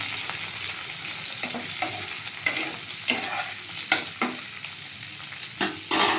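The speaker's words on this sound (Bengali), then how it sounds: "সর্ষের তেল দিয়ে রান্না করছি দেখুন" Prawns frying in mustard oil with bay leaf in a pan for a quick prawn malaikari, giving a steady loud sizzle broken by several sharp scraping stirs, with no talking.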